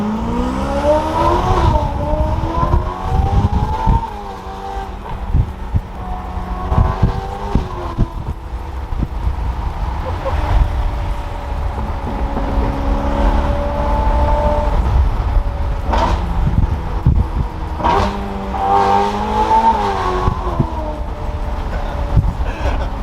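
A Ferrari F8 with turbos and a full Boden exhaust, heard from inside during a ride, revs hard through repeated rising surges, with each climbing pull cut by a quick shift drop and short crackles between pulls.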